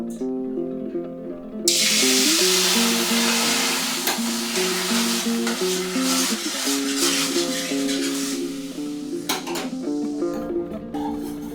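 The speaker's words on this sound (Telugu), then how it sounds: "ఉప్పు తాలింపు వేస్తాను" A dal tempering hits hot oil and bursts into a loud hissing sizzle that settles into a steady crackle, with faint clinks and music playing underneath.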